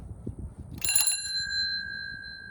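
A bell mounted on a Columbia RX5 bicycle rings once, a bright close metallic ding that hangs and fades slowly, over quiet room background.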